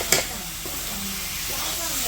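Colocasia leaves and vegetables frying in a pan, a steady close sizzle and hiss with a brief stirring clatter at the start, no talking over it.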